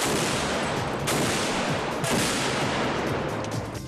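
Controlled explosive detonations set off during explosives experiments, heard as loud, continuous broadband blast roar with fresh booming surges about a second apart. No voices.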